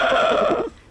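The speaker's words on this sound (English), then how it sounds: "The donkey gave the signal by nodding his head, and they all began to make music together. The donkey brayed," A donkey bray sound effect in a storybook recording, a loud harsh braying call heard alone and close for most of a second before cutting off abruptly.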